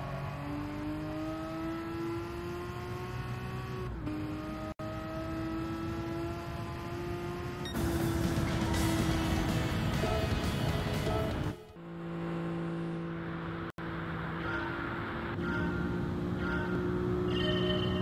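A car in Gran Turismo 7 laps a track during a license challenge, its engine droning and rising through the gears, with abrupt shifts and a brief drop as it brakes, steady and close without talk.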